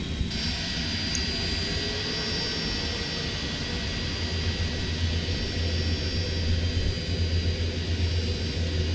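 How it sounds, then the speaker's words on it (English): A steady aircraft engine whine and low rumble as the right engine is cranked after an APU start, running continuously with a high-pitched tone overhead; no clear rise of an engine catching. "now we're going to go ahead and crank the right engine"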